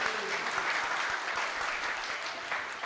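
Audience applauding a regional council vice-president at a live radio broadcast event in Côte d'Ivoire: steady, dense clapping from a crowd throughout, moderately loud and close.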